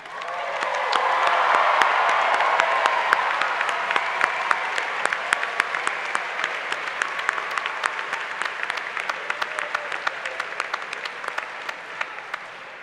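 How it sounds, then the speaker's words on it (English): Audience applause at a graduate master's commencement ceremony: a big crowd claps loudly in a full roar, then it thins into scattered, sharper individual claps toward the end. "this audience did not hold their applause"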